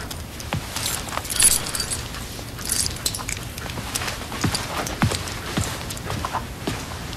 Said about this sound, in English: Here are your stupid keys.